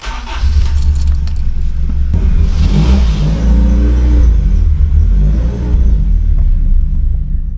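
A 2002 Honda Civic Si EP3 with a K20A3 engine on individual throttle bodies accelerates down the road, giving a loud, steady, deep engine rumble heard from inside the car.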